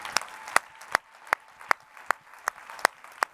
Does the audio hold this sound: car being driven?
no